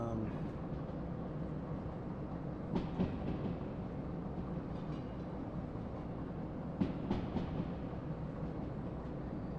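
A train rumbles steadily in the railway simulation game Derail Valley, a continuous low drone with a few brief clanks, heard alone.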